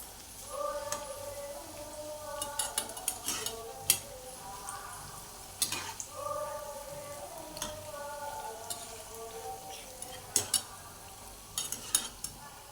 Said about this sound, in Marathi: कमी गॅसवर आपण ही खरपूस क आपली कुरकुरीत अशी भजी आपण तळून घ्यायची आहेत